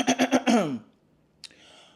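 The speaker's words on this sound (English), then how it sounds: "Let me clear my throat." A person clears their throat with a few quick, rough guttural bursts up close, followed by a short breathy exhale.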